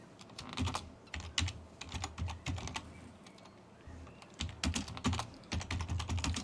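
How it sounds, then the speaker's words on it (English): Bursts of rapid typing on a computer keyboard, close and clear, with clustered clicky keystrokes separated by brief pauses and no voices. "I'll just type that in."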